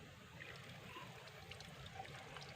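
Tap water pours and trickles onto a pinwheel made from a plastic bottle, a faint, steady splashing stream without pause.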